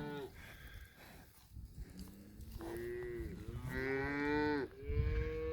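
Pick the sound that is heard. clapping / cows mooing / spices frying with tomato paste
cows mooing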